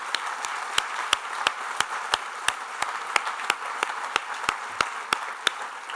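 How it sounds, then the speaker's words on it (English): Sparse, rhythmic clapping from an audience at a conservation talk by the Secretary of the Interior, sharp individual claps repeating steadily over a dense wash of applause at moderate distance, with no voices. "Can we give him a round of applause for that?"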